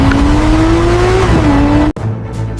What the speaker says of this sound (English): The legendary Lexus LFA is back.